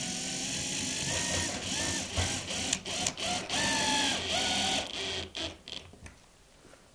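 A power screwdriver drives 3.5 x 16 mm screws to mount an LED panel, a close steady motor whir in several bursts with short pauses that fades toward the end.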